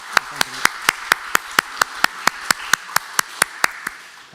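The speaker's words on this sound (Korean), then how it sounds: "우리 6월 생일을 맞이한 우리 성도들의 생일을 축하하면서 한번 박수해 주시면 고맙겠습니다" A church congregation claps in unison to honour members with June birthdays, about eighteen crisp, evenly spaced claps ringing out in a steady rhythm in a reverberant hall, with no talk over them.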